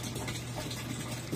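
Water drains from a twin tub top-loading washing machine set to spin, a soft continuous trickling rush with a low steady hum beneath, fairly quiet and unbroken with no voices.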